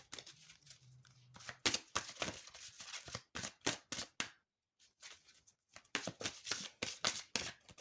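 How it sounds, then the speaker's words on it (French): Oracle cards are shuffled and drawn in a quiet room, with a run of crisp, close riffling flicks and slaps broken by a brief pause before the shuffling resumes, with no voices. "Donc je vais tirer une première carte."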